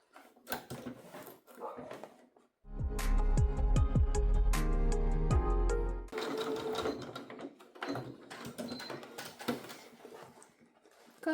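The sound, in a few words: sewing machine topstitching fabric pieces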